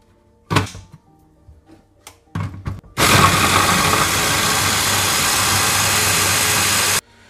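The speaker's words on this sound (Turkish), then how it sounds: "Tekrar bir kez daha kıymayı çektiriyor makinede." An electric meat grinder mincing meat for köfte starts with a few thumps and clunks, then runs as a loud, steady motor drone for about four seconds before cutting off abruptly.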